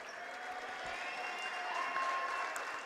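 Faint, steady applause from a crowd in a gym at a boys' varsity high school basketball game, honoring a player's 1,000th career point; the clapping holds evenly for a few seconds with no talk.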